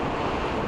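Strong sea waves surging along the coast at Bohol during summer, a steady loud roar of surf mixed with wind buffeting the microphone, no voices.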